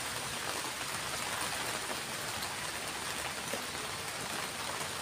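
Rainy-season rain falls in a steady, dense hiss of drops on surfaces, even and continuous from start to finish with no voices.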